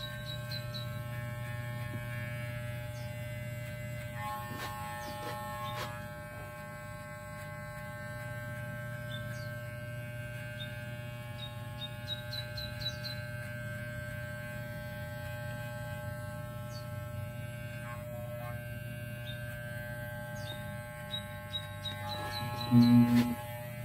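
A Walmart electric hair clipper buzzing steadily while cutting a skin fade, a close constant hum with slight changes in pitch and a few clicks and handling knocks, running alone without speech for most of its length.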